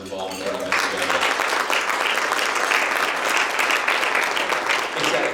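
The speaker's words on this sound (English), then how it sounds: "So give yourselves a round of applause, everyone that was involved in putting this together." An audience at a political summit event breaks into loud, sustained applause, dense clapping that swells quickly after a speaker's voice and holds steady to the end.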